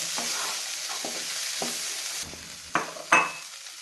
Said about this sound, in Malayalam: രണ്ട് മിനിറ്റ് ഇത് നന്നായിട്ട് ഇളക്കി ഉപ്പും എല്ലാം കടലയിൽ നന്നായിട്ട് യോജിപ്പിച്ചെടുക്കുക.